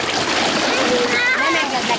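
Young children splash in a shallow paddling pool at an outdoor beach (strand) in Paks on a warm day, a loud, constant wash of splashing water with bright kids' voices and chatter mixed in.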